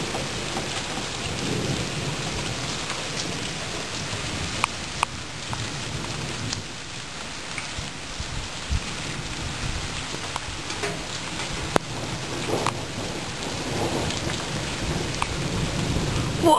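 A lightning storm brings steady rain and rolling thunder, a continuous wash of rainfall with low rumbles and a few sharp cracks across the whole stretch, no voices.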